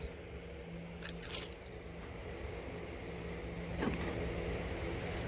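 A Cadillac Escalade's power door locks engage, a brief cluster of sharp mechanical clicks followed a couple of seconds later by another quick clunk, quiet and close against a low background hum.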